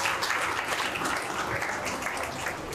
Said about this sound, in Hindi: इनके लिए तालियां बजाएं